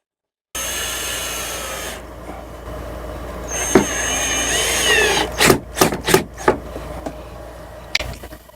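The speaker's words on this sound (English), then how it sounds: "Let's see if we can't get a couple screws to bite right into that" A power driver sends a couple of screws into the wall inside a Coleman 17B travel trailer, with a steady whir and then several short, loud bursts of driving.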